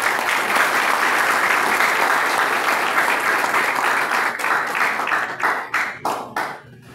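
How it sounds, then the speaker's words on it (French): An audience at a French-language hospital ceremony applauds, a dense, steady wash of clapping that holds for several seconds, then breaks into separate claps as it dies down. "je vous demande d'applaudir"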